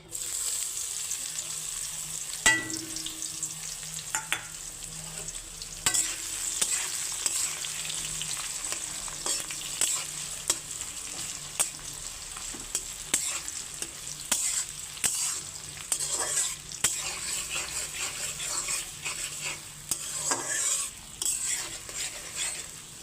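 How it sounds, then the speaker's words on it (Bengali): Chopped onion fries and is stirred in hot oil with dried chillies, bay leaf, crushed cardamom and cloves for khichuri, a steady close sizzle with scrapes and clinks of a spoon against the pan throughout. "আর এইখানে দিয়ে দিচ্ছি এলাচ থেতো করা আর লং এবারে দিয়ে দিচ্ছি পেঁয়াজ কুচি"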